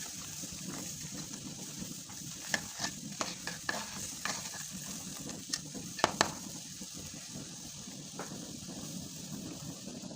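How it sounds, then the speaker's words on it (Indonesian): Food containing shrimp stirred in a pan, with repeated spatula scrapes and taps over a continuous bubbling sizzle, close and moderately quiet. "Dan aduk."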